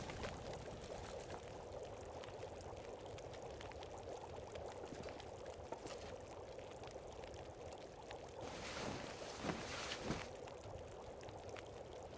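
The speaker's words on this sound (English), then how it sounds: "That sounds windy." Steady, loud wind howls through a snowy wilderness in the survival game The Long Dark, a continuous broadband rush with gusts swelling near the end, heard alone without talk.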